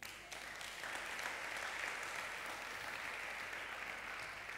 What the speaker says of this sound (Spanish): Ahora sí puedes dar un aplauso a Jesús